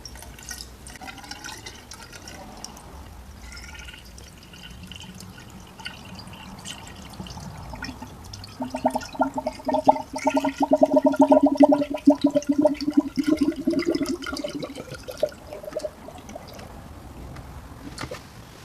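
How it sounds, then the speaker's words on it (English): Pre-diluted coolant pours into the cooling system of a Pontiac Fiero with a 3800 engine, a steady liquid gurgle and splash that swells louder midway and runs for several seconds before easing off. "now I'm going to start filling our cooling system."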